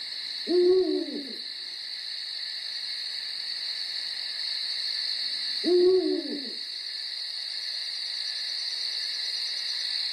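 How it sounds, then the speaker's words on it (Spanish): An owl hoots twice at night, about five seconds apart, each call a clear, mid-distance note. A constant high chorus of crickets or insects fills the background throughout. "como el ulular del búho."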